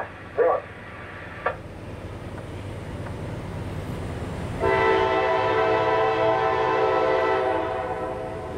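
A CSX freight train passes a crossing at Folkston, a continuous rail rumble broken by two short early horn taps, then a long loud blaring horn chord that holds for several seconds.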